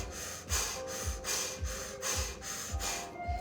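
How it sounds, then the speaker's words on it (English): Forceful breathing in and out through a mouth shaped into an O during a Kundalini yoga kriya, rhythmic pumping breaths about every half second, steady and close, with no talking. "We're working with powerful O-shaped breath, creating an O with the mouth and breathing in and out through the mouth"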